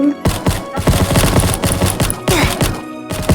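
Gunfire in a Roblox game sounds as a rapid, uneven string of sharp shots, fairly loud, layered over busy game audio with no talk.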